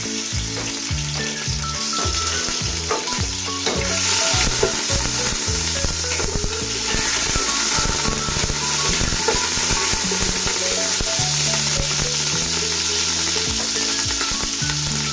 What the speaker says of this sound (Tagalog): Nalagay na, olive oil po ito ginagamit ko. Lagyan muna po natin itong luya.